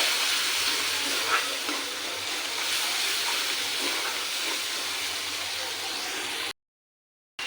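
Spice masala sizzling steadily in a pan just after a spoonful of water is added, a continuous soft hiss and bubbling crackle at moderate loudness, ending in a brief silence.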